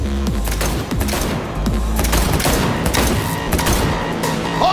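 Rapid gunfire rattles through a vehicle chase shootout in the video game Cyberpunk 2077, dense bursts of loud shots and thumps sounding continuously close by.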